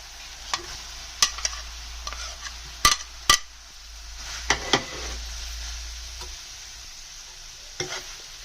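Mashed potato is stirred into cooked onion and tomato in a pan, with sharp spoon taps and scrapes against the metal at irregular intervals over a soft, low sizzle, heard up close.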